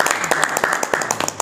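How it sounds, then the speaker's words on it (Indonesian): An audience claps in quick, irregular bursts during an Indonesian scouting podcast event, the sharp hand claps close and fairly loud, with voices faintly beneath. "Kita tepuk tangan."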